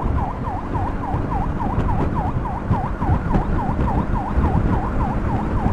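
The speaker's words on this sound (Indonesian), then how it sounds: "Jadi ambulan dari RSUD Pariaman." An ambulance siren wails in a rapid, repeating up-down yelp over steady road and traffic noise in Pariaman, Indonesia, fairly close and continuous.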